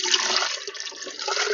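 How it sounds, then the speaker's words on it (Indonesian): Water splashes and pours steadily onto the growing medium of a potted grape plant, a soft, close, continuous rushing with no talk. "kemudian kita siram kepada media tanam pohon yang akan kita lakukan pemupukan"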